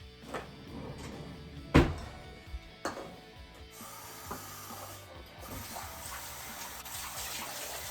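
Warm water pours and splashes steadily into a container for bread dough, preceded by a few knocks and thuds, with the flow growing fuller toward the end.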